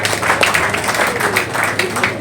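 Audience in a community meeting hall applauding, a steady dense wash of clapping that fills the whole moment, fairly loud with no gaps.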